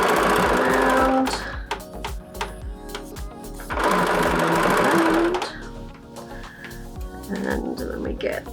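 A sewing machine stitches fabric around the corner of a tote bag in close, loud bursts of rapid rhythmic whirring, pausing between runs, while someone talks over it.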